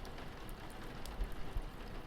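Steady rain falls at night near the ocean by a foghorn station, a soft, even hiss with faint scattered drops, quiet and continuous throughout.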